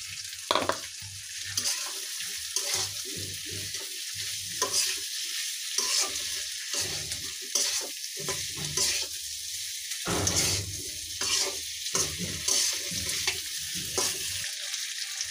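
Potatoes fry with a steady loud sizzle in a pan for a dried-fish and potato dish, broken by repeated scraping stirs of a spatula throughout, with no voices.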